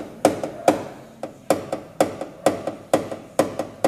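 Close, crisp hammer blows on car bodywork during paintless dent repair, landing in quick pairs and groups, a sharp strike followed by a lighter tap, repeated steadily.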